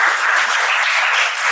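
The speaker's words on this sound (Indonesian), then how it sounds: "Wah, ini tepuk tangan buat alumni kita" Applause for alumni at an inspirational talk show event at Cendana Polytechnic, Fashion & Art, a steady, dense wash of clapping from a sizable audience that continues unbroken and fairly loud throughout.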